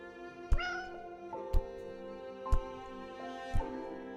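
A cat meows once in the video game Lost Words: Beyond the Page, a drawn-out rising and falling call over soft sustained music, with regular soft thumps about once a second.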